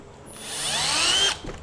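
A power drill boring a small pilot hole during a Promaster cowl repair, a rising whine that builds over about a second, then cuts off abruptly, close and fairly loud.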